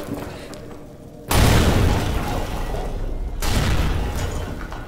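A bomb explosion in Amnesia: The Bunker, a sudden loud boom that erupts after a quiet stretch, followed by a rumbling roar and a second surge.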